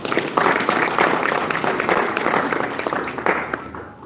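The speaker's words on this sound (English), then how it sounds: "We need to clap for Gen Z." Crowd applause for Gen Z at a Wiper Party national address, a dense, steady wash of clapping that stays loud for about four seconds before starting to thin out.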